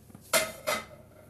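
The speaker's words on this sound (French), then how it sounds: "Et là, je mélange délicatement" Two soft clinking scrapes of a utensil against a bowl while chocolate tart batter is gently mixed, short and close, with quiet pauses between and no talking.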